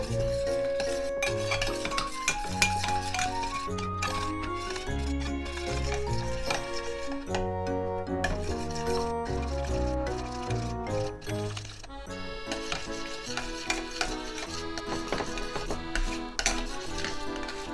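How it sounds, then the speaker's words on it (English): A spoon stirs and scrapes sauce in a pot as it heats on a stove for vegan Japanese dango, with steady scraping and clinking against the pot bottom, fairly close, with no talk over it. "So while we're heating this up, you want to keep mixing like this."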